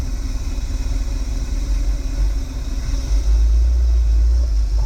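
A car engine runs with a low, steady rumble as the car tries to drive under its own power, rising slightly louder near the end, close and with no talk.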